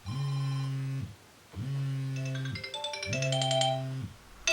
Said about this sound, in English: whenever I hear that classic ringtone